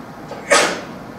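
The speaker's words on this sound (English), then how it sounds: "A sneeze." A single short, sharp sneeze bursts out once amid quiet room tone.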